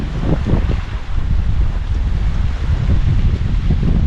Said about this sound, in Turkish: Aynı rüzgar yine çıktı